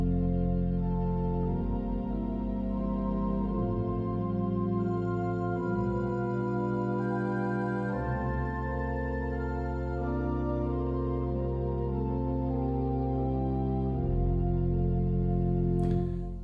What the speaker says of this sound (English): with the other flute it sounds like this